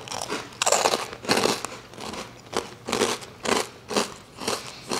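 Loud, close crunching of a crisp snack being chewed, in steady repeated bites with no talking.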